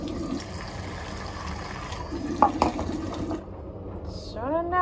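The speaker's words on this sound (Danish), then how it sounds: "Så skal der lige noget vand i." Water poured from a tap into a bowl of dog food mix, a steady broadband rush under faint background noise, cutting off sharply near the end before a brief high squeak.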